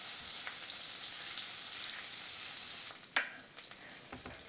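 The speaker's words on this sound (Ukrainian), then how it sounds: "Все, 25 грамів вершкового масла додаю." Butter added to hot caramel in a frying pan over moderate heat gives a steady, bright sizzle and crackle throughout, which dips near the end as a few louder sharp pops and spits stand out.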